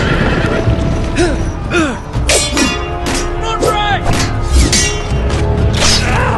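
Several horses whinny and neigh in quick succession in the Telltale Game of Thrones video game, loud and close, over thumping hoofbeats and game ambience.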